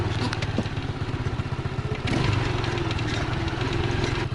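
An Izh Planeta sidecar motorcycle fitted with a Chinese engine labors uphill, its close engine note pulsing and chugging steadily, swelling louder about halfway through.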